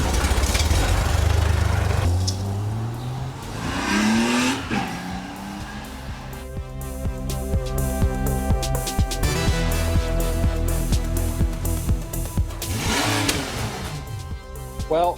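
A 35-year-old Honda Goldwing with a fault at half throttle revs on a test ride, its engine rising and falling in pitch through repeated accelerations and gear changes, loud and steady throughout.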